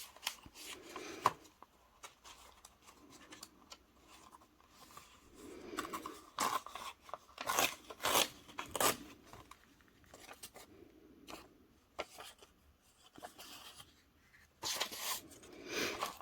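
Paper being ripped by hand while making a journal cover, heard as several short close tearing bursts with quiet pauses between them, no voices.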